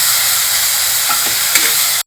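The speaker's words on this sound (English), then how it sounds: "and fry till the onions become a brownish color" Chopped onions fry in oil in a pan, giving a loud continuous sizzle with a few stirring scrapes before cutting off abruptly at the end.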